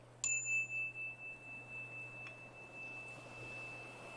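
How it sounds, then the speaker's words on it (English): A single bell is struck once in a quiet room, giving a clear bright ding that rings on with a long, slowly fading, wavering tone over a low steady hum. "And then I offer you a bell."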